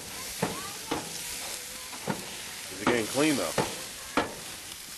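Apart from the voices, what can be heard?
water sizzling on hot grill, Grill Daddy Pro brush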